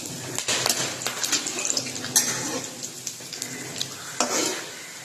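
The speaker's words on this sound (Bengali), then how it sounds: "তো যে গরম মশলাগুলো দেখিয়েছিলাম সেগুলো তেলের মধ্যে দিয়ে দেবো। তার সাথে 4টে ছোট রসুন অ্যাড করব।" Whole garam masala and four small garlic cloves frying in hot oil for a mutton curry, crackling sizzle with scattered sharp pops, spatula stirring and clinks of utensils against the pan, close and busy.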